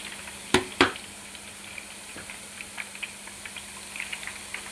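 Boondi batter droplets fry in hot oil for motichoor laddu, a soft continuous sizzle and bubbling broken by two sharp clatters near the start and faint scattered ticks afterward.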